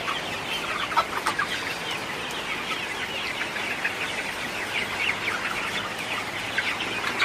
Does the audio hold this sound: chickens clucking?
yes